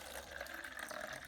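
Filtered water poured into a container holding tomato plant cuttings for propagation, a soft, steady trickle and splash heard faintly and continuously with no talking.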